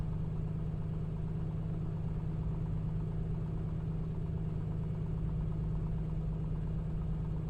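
An airliner's engines idling while it taxis at a large airport in a flight simulator, a steady low droning hum with constant vibration, continuous and even throughout with no voices.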